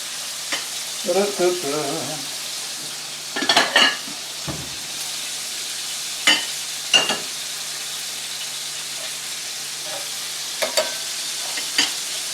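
Thinly sliced pork loin chops sizzle in a hot pan on the stove, a steady low frying hiss broken by scattered clinks and scrapes of utensils and cookware, close by and without talk.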